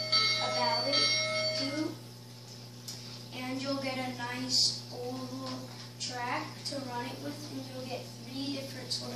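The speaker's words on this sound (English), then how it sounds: "it has a nice bell sound" A Lionel Polar Express toy train bell rings out a few times, clear and fairly close, over a steady mechanical hum and some background voices.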